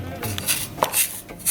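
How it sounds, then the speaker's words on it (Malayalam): Heated wheat flour is tipped and scraped into a bowl, giving soft, dry rubbing and rasping scrapes with a few light knocks of utensil against the bowl, close and fairly steady throughout. "ഈ ചൂടാക്കി വെച്ച ഗോതമ്പ് പൊടി നമുക്ക് ബൗളിലേക്ക് ഇടാം"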